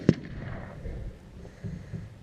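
One sharp loud bang from a gunshot fired at water beside a straw fire outdoors, followed by low rumbling and a couple of fainter thumps.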